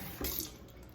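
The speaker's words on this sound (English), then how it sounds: "So we're going to put some water in here." Water poured into a container of sea moss at home, a short splashing pour that swells briefly, then settles into a soft, steady trickle at close range with no talking.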